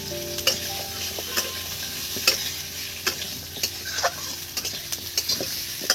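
Potatoes frying in ghee with asafoetida and spices for aloo dum, a loud continuous sizzle broken by repeated sharp scraping and stirring knocks at irregular intervals, close up and without speech.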